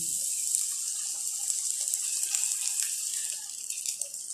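Water pours into a pan of stir-fried eggplant, producing a continuous close hiss and gush that steadily fills the space without any voices.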